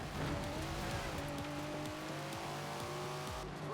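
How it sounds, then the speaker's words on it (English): An upgraded Datsun in Forza Horizon 4 revs hard while driving, its engine note climbing and dropping through quick gear changes over a constant rumble, with hints of tire noise. "Never heard a Datsun sound like that, have you?"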